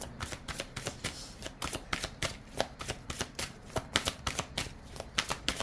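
A deck of tarot cards is shuffled by hand in a quick, continuous run of crisp riffling flicks, close and fairly quiet, with no talking.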